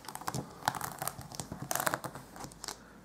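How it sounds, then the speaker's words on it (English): A clear rubber stamp is slowly peeled off a desk, giving quiet, close crinkling and tacky tearing sounds in an uneven series of small bursts. "I'll peel it off my desk very slowly"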